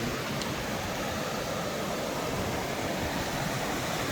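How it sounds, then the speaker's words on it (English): Aggressive rushing water from mini waterfalls along a stream, a steady, dense roar filling the scene without pause. "Okay, the water is so aggressive down there."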